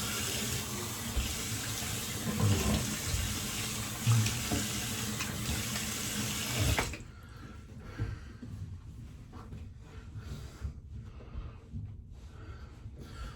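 Tap water runs steadily into a sink while a shaving razor fitted with a Persona blade is rinsed, the broad hiss cutting off abruptly partway through and leaving a few faint drips and small handling sounds in a quiet room.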